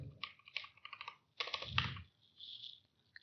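Code typed on a computer keyboard, quick close bursts of key clicks in rapid runs, broken by short pauses and one soft sustained press, with no talk.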